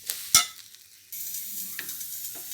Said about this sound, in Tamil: சாதம் போட்டு ஸ்டவ் ஆஃப் பண்ணிவிட்டு கிளறி எடுத்துக்கலாம்